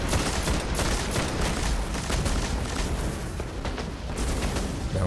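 Dense gunfire in the video game Destiny during a boss battle, rapid overlapping shots and booms crowding together into a loud, continuous barrage with no pauses.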